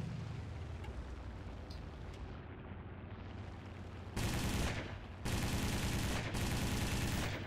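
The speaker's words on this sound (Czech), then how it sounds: "Vidíte, že moje střelba je tristní." Aircraft machine guns firing in the War Thunder flight game, with Ki-43 and Ki-45 fighters involved: two loud sustained bursts of rapid fire, the first about a second long and the second longer, over steady engine drone.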